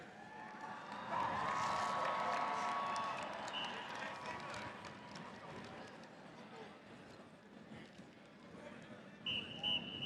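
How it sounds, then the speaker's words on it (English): A crowd at an Alabama football championship parade applauds and cheers as a championship marker is unveiled, swelling to a loud sustained roar of clapping and cheers outdoors that gradually fades, with voices throughout. "please join me in a huge round of applause as we unveil this new mark in Alabama football history"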